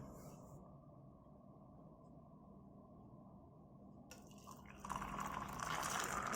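An auto-stirring magnetic mug spins in boiled hot water, giving a steady low motor whir close by, joined midway by a brighter watery hiss and splashing that rises and stays loud to the end.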